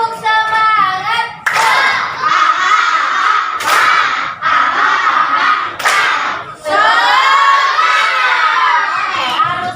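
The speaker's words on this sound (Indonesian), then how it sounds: "Dengan cara tepuk semangat, semuanya harus kompak melakukan tepuk semangatnya." Schoolchildren in a classroom doing a 'tepuk semangat' spirit cheer, a loud group of young voices chanting and shouting together in rhythmic bursts punctuated by sharp unison claps, several phrases in a row.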